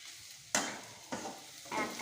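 Green chillies frying in a pan are stirred in three bursts, each a sudden scraping sizzle that fades, close and fairly quiet.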